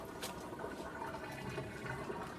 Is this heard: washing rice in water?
yes